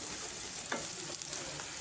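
Pieces of Qurbani meat hitting a hot frying pan, giving a steady close sizzle with brief stirring scrapes, no talking.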